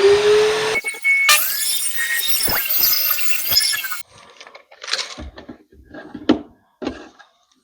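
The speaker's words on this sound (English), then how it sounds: "So we're going to trim them down on the table saw here." Table saw trimming 1x4 wood pieces, a loud close motor whine and blade cut lasting a few seconds, then cutting off into scattered knocks and handling clatter of the boards.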